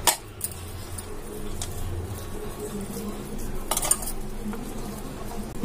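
Pieces of fish being mixed with corn flour in a bowl, soft stirring and clinking of a utensil at close range with faint background hiss and a few sharper knocks.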